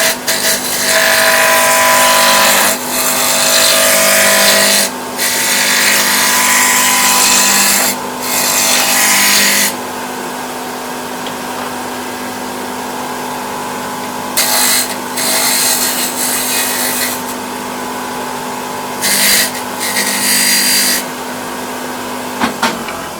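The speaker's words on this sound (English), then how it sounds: "I'll start by doing roughing gouge just to get it a little bit round." A spindle roughing gouge cuts a small snowman ornament blank on a wood lathe, producing a steady, close rasping whir that breaks off briefly several times before resuming.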